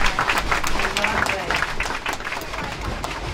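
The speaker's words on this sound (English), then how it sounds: "Give these folks a big round of applause." An audience applauds for veterans during a Dollywood Express train ride, a lively burst of many hands clapping with voices mixed in, gradually easing off.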